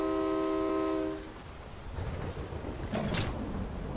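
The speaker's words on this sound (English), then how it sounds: "No, the train is named James, I think" A train in a heavily modded Skyrim video game sounds a loud sustained horn blast, then rumbles along with rolling rail noise and a brief hiss, all fairly close with no talk.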